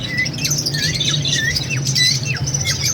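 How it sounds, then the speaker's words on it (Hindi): Cockatiels and budgies in a breeding aviary squawk and chirp in quick overlapping bursts, a busy, loud, close chorus of many birds over a low steady background hum. "ये ग्रे कॉकटेल है, common cocktail, black cocktail mix हैं सारे बजीज हैं।"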